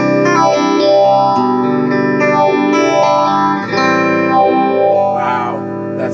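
An electric guitar plays through a Retrosonics chorus pedal. Loud sustained chords carry a slow, repeating swirling sweep, with no talking.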